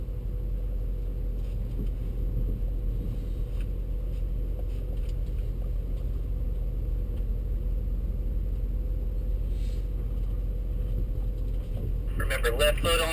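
Low, steady engine rumble from BMW X5 SUVs pulling up in line on a driving course at the BMW Performance Center, a continuous near drone with faint talk in the background.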